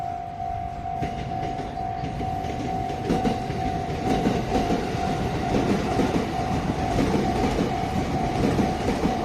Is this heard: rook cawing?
no